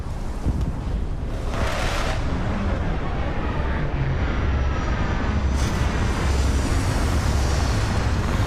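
Spaceship landing engines in the video game Starfield give a steady, loud, dense roar with a rushing breathy layer, holding constant and swelling slightly near the end, with no talking over it.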